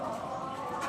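A pair of Afsan grizzle pigeons coo softly and continuously, a low steady murmur close by with no talk over it.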